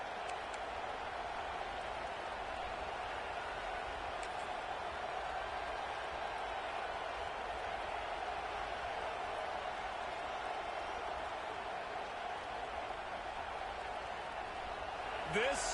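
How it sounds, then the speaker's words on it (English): College football stadium crowd at a Duke versus Nebraska game, a broad steady roar of many distant voices filling the whole span evenly, without distinct cheers or spikes. "This crowd ready to make its presence known."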